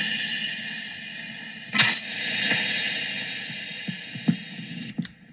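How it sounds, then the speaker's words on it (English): Homemade piezo noisebox run through a delay effects pedal, giving a droning metallic tone with a few percussive knocks and clicks that ring and repeat, played alone at moderate volume. "And also with some delay, it sounds a bit chunkier."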